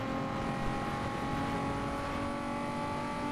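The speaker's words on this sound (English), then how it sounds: "I do not very much like the sounds that turbos make." Turbocharged car engine in the racing game Need for Speed: Most Wanted, a steady loud engine drone with sustained high whistling tones running throughout, no talking.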